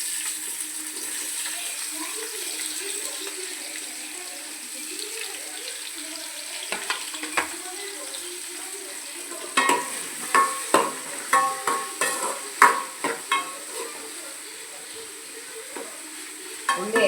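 Chopped onions frying in hot rice bran oil for an egg biryani, a soft steady sizzle that later gives way to a run of sharp stirring clacks, with running water faintly behind and no speech.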